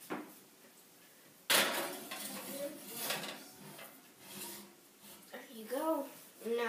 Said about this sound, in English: we're going to plop this thing into the oven